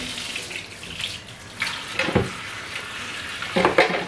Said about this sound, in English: I like to wash it clean because too many hands have touched it